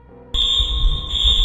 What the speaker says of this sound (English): the fire alarm is triggered